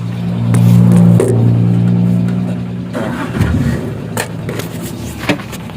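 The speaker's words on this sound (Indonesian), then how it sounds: "Kita naik mobil saja." A car pulls away on a rural road by rice fields, its engine rising to a loud hum before fading, with a few clicks and bumps as it drives off.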